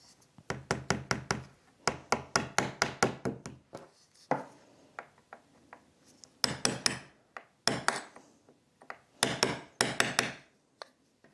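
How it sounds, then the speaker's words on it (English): Quick bursts of sharp hammer blows drive nails into an antique wooden picture frame under restoration, close and crisp, coming in rapid clusters of taps with short pauses between. "So I'm just going to attach it a bit more firmly with some nails"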